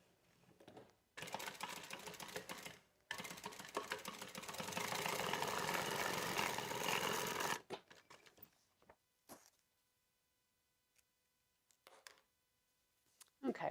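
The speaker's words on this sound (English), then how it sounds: "And we're just going to stitch this. And I'm going to use just about a 1/4 inch seam allowance." A sewing machine stitching a quarter-inch seam on a fabric tablet sleeve: close, steady, rapid mechanical whirring in two runs of several seconds, followed by quieter handling clicks and short stitch bursts.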